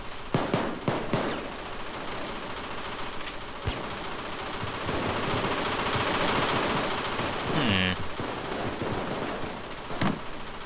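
Rapid gunfire from a firefight in Payday 2, bursts of automatic shots early on giving way to a dense, noisy clatter of shooting over a sustained loud wash, with a brief mechanical chatter near the end.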